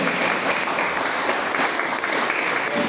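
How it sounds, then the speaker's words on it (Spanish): A church congregation applauds during a worship service, with dense, sustained clapping filling the room at a steady, loud level throughout with no break. "¿Cuántos le dan un aplauso al Señor?"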